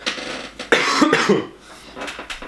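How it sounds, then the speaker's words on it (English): A few harsh, breathy coughs come in quick bursts, close and fairly loud, with a short pause before a softer trailing cough. "Excuse me while I cough."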